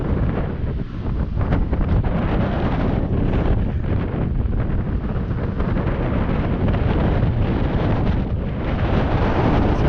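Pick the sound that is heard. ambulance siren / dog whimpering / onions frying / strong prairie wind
strong prairie wind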